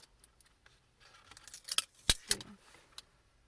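A label sticker being peeled open up close, with crisp crackling and ripping bursts after a few light taps and handling clicks.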